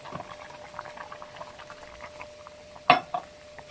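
A hilsa fish head fries in a pan with a constant soft bubbling sizzle of hot oil, broken near the end by a brief louder clatter and spatter.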